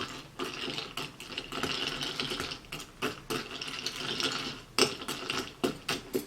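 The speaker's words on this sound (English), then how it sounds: "Then I'm going to give this a stir around." Ice cubes clink and rattle against a glass as a bourbon Old Fashioned is stirred, a busy run of quick, close ticks and knocks with a few louder clacks near the end.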